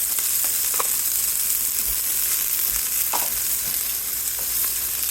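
Onions and green pepper frying in olive oil for goulash, a close, steady sizzle broken by occasional stirring scrapes and light clicks of a utensil.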